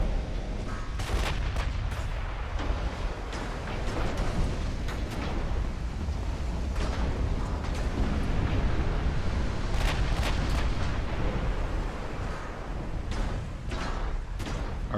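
Naval battle in Ultimate Admiral: Dreadnoughts with 1940s battleships trading fire, a dense, continuous roar of heavy gun blasts and booming explosions layered over one another for the whole stretch, loud and rumbling with sharp cracks punching through.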